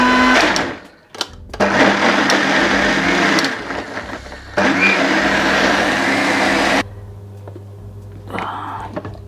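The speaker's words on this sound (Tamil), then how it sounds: "இதை மூடியை போட்டு நல்லா அடித்து கொள்ளுவோம்." A kitchen blender grinds spinach for palak paneer with its lid on, roaring loudly in two long bursts separated by a short pause, then cutting off to a low hum.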